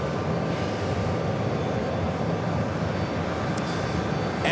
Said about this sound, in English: It's that Delta Flight 209 coming up from Edinburgh. 767-300 ER.